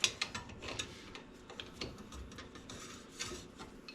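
A large wrench works a part on a 1965 Schwinn Varsity bicycle, giving soft irregular mechanical clicks and rubbing scrapes, close and fairly quiet.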